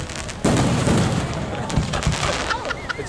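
Fireworks burst at a beach display in Bradley Beach, a loud close boom followed by dense crackling and a few whistling trails, while people talk nearby.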